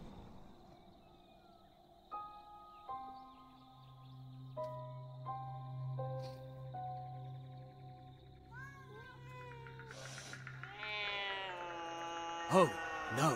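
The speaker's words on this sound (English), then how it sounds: "Seems like these cats have a bone to pick." Cats meow in the video game Copycat, a cluster of rising, wavering cries near the end that follows steady sustained tones, with a voice speaking over part of it.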